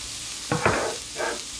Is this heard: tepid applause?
no